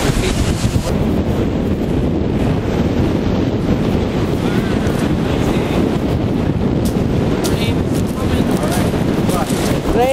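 Strong wind buffets the microphone over rough sea waves off Montauk, Long Island, a constant, loud roaring wash with no letup, while voices are faintly present in the background.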